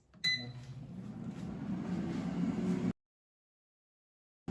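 An air fryer set to 400 degrees Fahrenheit starts with a short beep, then hums and whirs steadily for a few seconds before cutting to silence, with another start right at the end.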